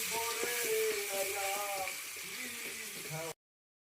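Ginger garlic paste frying in oil with chopped onion for a Rui fish curry, giving a soft, steady sizzle under faint tonal background sounds.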